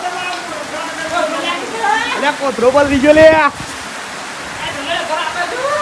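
Rain pours down in a steady, broadband hiss during a downpour that leaks water into a house, continuous throughout and loud, with a person talking over it in the middle.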